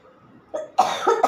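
An elderly woman gives a short, close cough in two or three harsh bursts at home in a kitchen, the cough brought on by eating something sweet.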